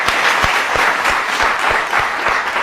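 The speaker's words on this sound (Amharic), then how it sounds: "ጠልታችሁታል፣ ግን አጨብጭቡለት።" A television studio audience applauds a young man. Loud, dense clapping continues throughout, with thumping beats at regular intervals beneath it.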